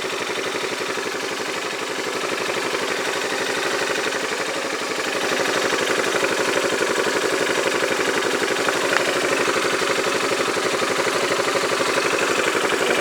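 A Yamaha Majesty scooter idles with a steady, rapid mechanical rattle and faint rhythmic clunking, close-up and continuous, growing a little louder partway through.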